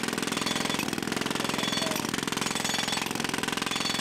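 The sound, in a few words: students operating a jackhammer at a construction fair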